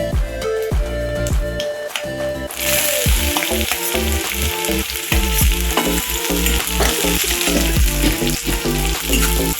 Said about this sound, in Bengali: পেঁয়াজটা একটু লাল লাল করে সামান্য একটু ভাজবো